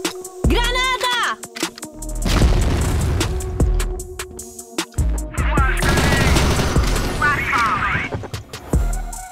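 A grenade blast and bursts of automatic gunfire from the CrossFire online shooter game come in sharp rapid volleys with booming hits, loud and close, while a voice with a chirpy, synthetic quality calls out between the shots.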